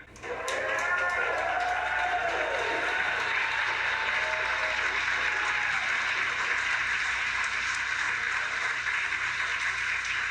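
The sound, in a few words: cheering and applause at a Falcon 9 booster landing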